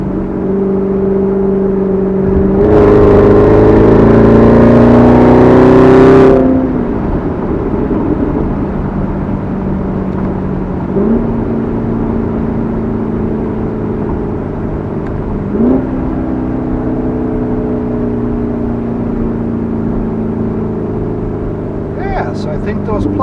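A Chevrolet Corvette Z06 Carbon 65 edition engine revs hard and loud for a few seconds, then settles to a burbling idle with a couple of short throttle blips and popping exhaust, with someone speaking over it.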